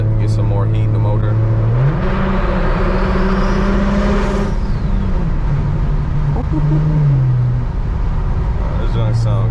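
A single turbo BMW 335i drones loudly from inside the cabin on a drive, its engine note holding steady, stepping up and later dropping back, with a rising whine in the middle.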